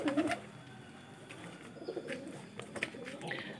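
Pigeons coo softly and repeatedly inside their coop, a faint, close murmur of low calls with light rustling and small knocks around them.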